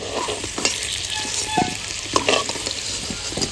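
Potatoes frying in hot oil in a pan: a steady sizzle broken by several scraping, clattering stirs of a spatula, close and fairly loud, with no voices.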